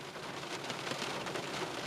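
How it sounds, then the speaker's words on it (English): Steady rain falling in a summer rainstorm, a dense, even patter on surfaces all around with no pauses, moderately loud and close. "What a better way to celebrate the end of summer than a rainstorm."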